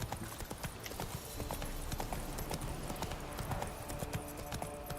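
Roach, a horse in The Witcher 3 video game, clip-clops along in a quick, steady rhythm of hoof strikes, fairly close and unbroken for the whole stretch, with no speech over it.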